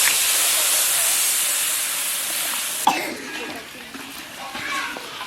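Water hits hot curry masala in a pan with a loud sustained hiss and sizzle that cuts off abruptly, leaving softer bubbling and faint background noise.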